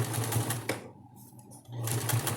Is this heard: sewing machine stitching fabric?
yes